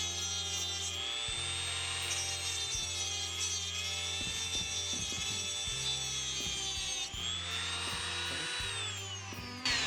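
Close and loud, a Dremel rotary tool cuts an arrow shaft in a steady high whine, its pitch dipping and recovering as the bit bites the shaft, punctuated by short clunks, with no voices.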